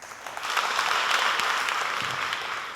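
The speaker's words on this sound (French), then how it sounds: "vous applaudissez systématiquement pour les encourager" Audience applause at a parish quiz contest, a dense, steady wash of many hands clapping that rises quickly and holds evenly throughout, fairly loud with no voices over it.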